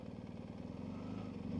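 A motorcycle engine idles steadily at a dead stop for horses on a country road, a low, even rumble with a faint regular pulse and no talking.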